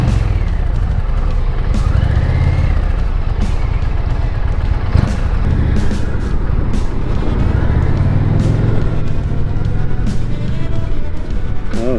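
An Indian Challenger motorcycle pulls away in first gear, its engine rumbling steadily and loud under heavy wind buffeting, with no speech.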